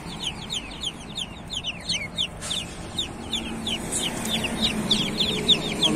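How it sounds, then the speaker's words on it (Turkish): Clucking chickens and a rooster in a coop, many overlapping high clucks and squawks continuing throughout over a constant hum of barn noise, fairly close. "Mesela horoz."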